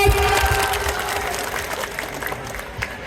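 An audience applauds the chief guest at a college freshers' welcome ceremony, with dense, steady clapping that fills the hall and fades slightly toward the end.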